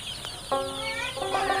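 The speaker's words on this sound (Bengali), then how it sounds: "আসল অরিজিনাল মিশরীয় ফার্মি মুরগির খামার" Clucking from Egyptian Fayoumi chickens on a poultry farm, a brief sharp note followed by a sustained, tonal cluck and another rising call, nearby and clear against low barn noise.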